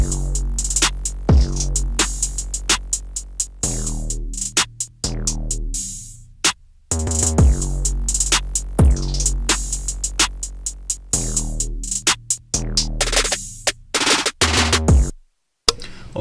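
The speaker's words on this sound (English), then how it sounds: "So I use expansion on my top drums and I use compression on my lower drums" A loud drum mix made in FL Studio, with expansion on the top drums and compression on the lower drums. Punchy kicks and snappy hits repeat in a steady pattern with sharp cutoffs, ending in a brief full stop near the end.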